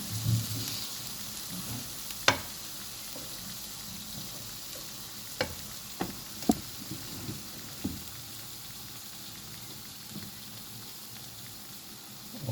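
Eggs half-frying in a pan with little oil, a steady close sizzle with a few sharp clicks and pops scattered through it, no voices.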